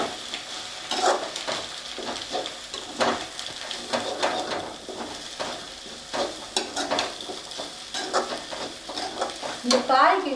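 Vegetables and capsicum for chicken fried rice sizzle in a hot pan while a spatula stirs and scrapes. The frying is close and continuous, with no talking.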